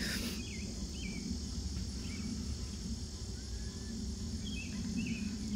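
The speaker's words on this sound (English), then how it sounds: "Do you hear the frogs? Those are frogs." Frogs call at night during a lightning storm: faint, scattered rising chirps over a constant low droning chorus, distant and quiet, with no voices.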